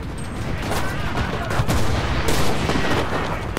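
Rapid gunfire in a WW2 shooter game, Enlisted: close bursts of shots and crackling volleys layered over a continuous battlefield din, loud and dense for the whole stretch.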